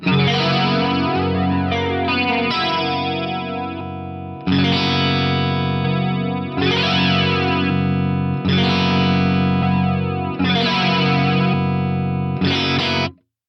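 Electric guitar runs through a pedal into a Fractal FM9, giving a loud, distorted, chorus-thick tone: five or six sustained chords, each ringing for about two seconds before the next strike, then cutting off abruptly.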